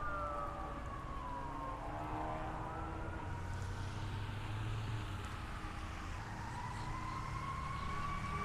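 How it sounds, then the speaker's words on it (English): An emergency vehicle siren wails as it passes at some distance, its rising and falling tone sweeping steadily over a constant rumble of traffic with no talking. "we're gonna wait for this siren to go through"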